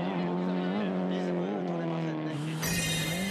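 A drift car engine during a D1 drift competition run holds a steady high buzzing drone with slight pitch wobbles, then jumps sharply higher near the end, loud and continuous under commentary.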